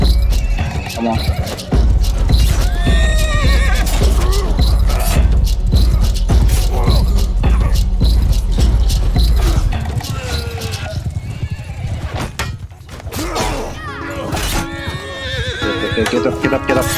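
Horses whinny loudly over rapid clip-clopping hooves in a Mount & Blade II: Bannerlord online siege battle, mixed with game-like mechanical clanks and occasional talking.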